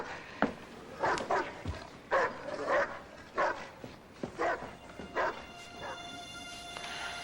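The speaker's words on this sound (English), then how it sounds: "I gotta do something about that damn dog." A dog left behind at a house barks repeatedly in short, separate yaps and bow-wows at a moderate distance, spaced unevenly through the stretch, with no talking.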